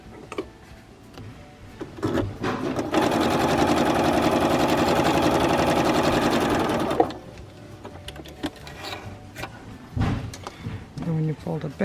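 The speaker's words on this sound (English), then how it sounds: "Put it in your machine and stitch right on that line" Sewing machine stitching the mitered corner of a quilt's binding, a steady rapid whirring run of about four seconds with quieter handling noises and movement before and after.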